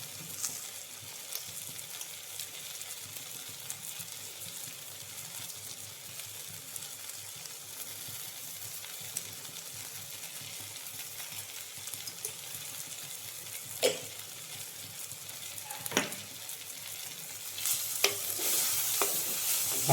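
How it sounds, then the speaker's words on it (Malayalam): Kashmiri chilli powder and chicken masala fry in a pan for a green peas masala, a soft, steady sizzle with a few quiet stirring scrapes, growing slightly louder toward the end. "ആ പൊടികളുടെ പച്ചമണം അറിയാവുന്ന എന്താ പറയുക, മൂത്ത് വരാനായിട്ട് ഇളക്കി."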